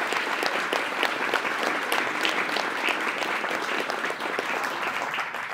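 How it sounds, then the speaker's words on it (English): An audience applauds the astronauts at a conference closing, a loud, dense and sustained burst of many hands clapping together that carries on evenly from start to finish. "If we could just get one more round of applause for the amazing astronauts."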